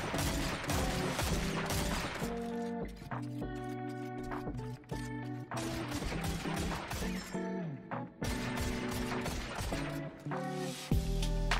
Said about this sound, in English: Shoot him in the face many times from the other side of the room till he runs away again.